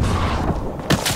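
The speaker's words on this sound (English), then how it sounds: "Getting shot from behind." Gunfire from behind in Rising Storm 2: Vietnam, Saigon map, playing PAVN: a dense rattle of shots under steady battle noise, with a louder close burst near the end.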